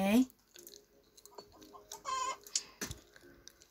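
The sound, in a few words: chicken clucking in the video game Minecraft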